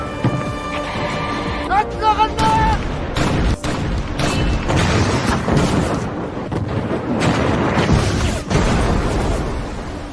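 Artillery firing in all directions in an Iran–Iraq war film battle scene, repeated heavy booms and blasts with crackling debris, loud and dense, mixed with voices and other battle noise.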